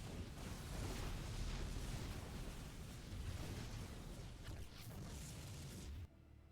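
Explosions in the StarCraft 2 real-time strategy game, a dense, continuous roar of booming blasts and rumbling bursts that stays loud and then drops away abruptly near the end.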